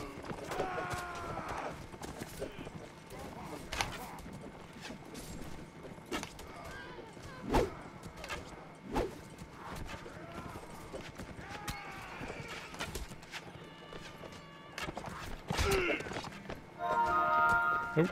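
Horse hoofbeats in Mount & Blade: Warband clop in scattered, irregular bursts amid battle noise and occasional thuds, moderately loud and close, with no voice over them.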